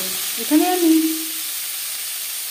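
Onion and tomato hit hot oil in a wok that was just used to fry small fish, giving a steady close sizzle throughout with a brief spoken phrase in the middle.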